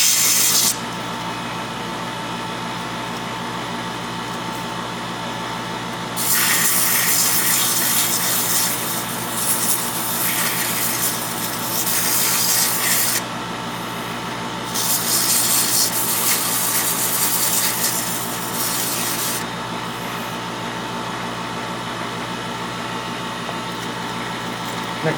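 Sanding the corners of a wood core ring with pink veneer micarta: a continuous close rasping drone from a powered sander, swelling louder and brighter in two long stretches, with no speech.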